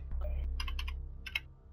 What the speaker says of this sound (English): Sorry if you can hear me typing away in the background.